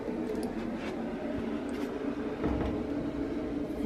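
A baby's white noise machine, or shusher, gives a steady broadband hiss throughout, even and unbroken at moderate level, running in the background of a motorhome kitchen.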